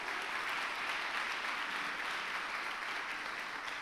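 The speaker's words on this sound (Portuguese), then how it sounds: "Se é para o Senhor, aplauda Ele." A church congregation at a Portuguese-language communion service applauds, a steady broad patter of many hands clapping together, even in level and slightly distant.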